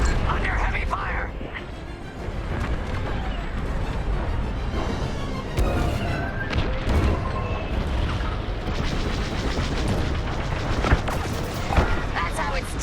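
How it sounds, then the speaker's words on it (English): Heavy blaster fire in the space combat game Star Wars Squadrons, a dense continuous barrage of shots and explosions under engine roar, with voices talking over it. "They locked onto me. Under heavy fire."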